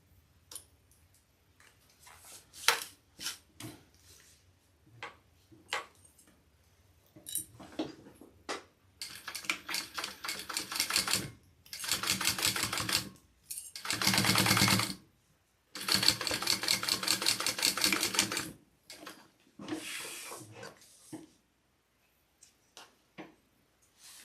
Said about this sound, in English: we are going to top stitch this all down and together